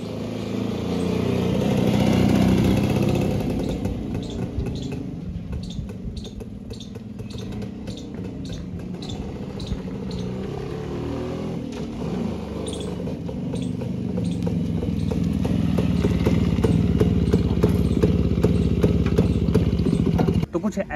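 Restored 1993 Rajdoot motorcycle running after sitting for years: a steady close engine drone with throbbing low rumble and rising revs toward the end, with a voice heard over it.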